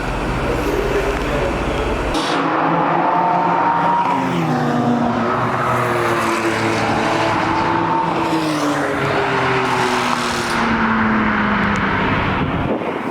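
Porsche cars, including GT3, GT4 and a classic, driving past at a track event, engines rising and falling in pitch as they rev and pass, loud and sustained with overlapping cars.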